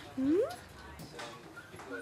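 A five-week-old puppy gives a single short rising whimper up close, followed by faint rustling and soft background voices.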